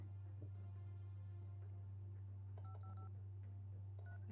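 Phone number tapped out on a handset in The Red Strings Club video game, a quick run of clear dialing tones in two bursts over a steady low hum, no one speaking.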